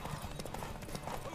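A horse's hooves clip-clop at a run in The Witcher 3, a quick continuous beat of game hoofbeats, fairly faint with music and effects underneath.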